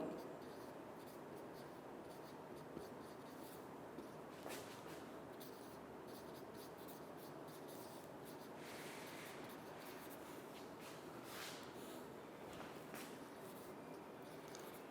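Marker or chalk scratching on a board during a chemistry lecture, a faint, steady stream of short strokes set against low room noise and hum.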